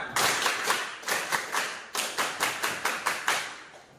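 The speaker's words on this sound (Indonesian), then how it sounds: "Tepuk pramuka." A school class claps out the rhythmic Indonesian scout clap, a patterned sequence of sharp unison hand claps in quick bursts with short pauses, close and fairly crisp.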